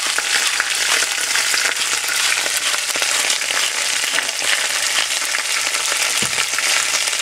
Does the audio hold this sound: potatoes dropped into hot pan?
yes